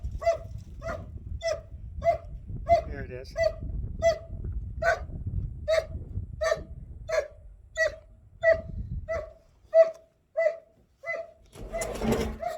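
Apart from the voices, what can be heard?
dog barking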